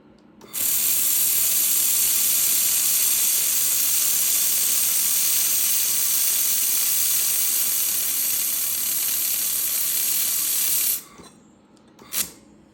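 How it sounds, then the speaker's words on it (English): An XLaserLab X1 Pro laser welder runs practice welds, giving a steady, loud, bright hiss that holds evenly for about ten seconds and then cuts off, followed by a brief click. "I just was doing some practice welds"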